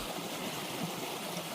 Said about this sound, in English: So we want to get rid of all of this water as much as possible, and you can see that the flow is pretty good